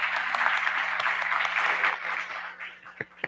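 A church congregation claps together in a dense burst of applause that gradually thins out into scattered claps toward the end.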